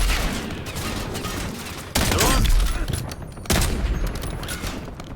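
Gunfire in Call of Duty: Warzone on Rebirth Island, dense crackling bursts of rapid shots running continuously with two sharper, heavier volleys in the middle, loud and close.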